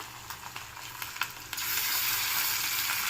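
Ground chutney hits a hot pan with dried chillies and curry leaves, starting quiet and then jumping to a loud, steady sizzle as it fries and is stirred.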